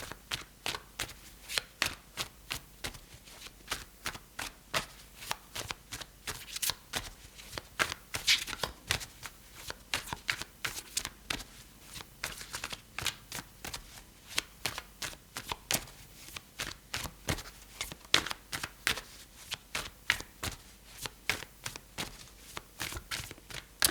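Tarot cards are shuffled over and over in a quick, uneven patter of riffles and soft slaps, close and fairly quiet, with no talking.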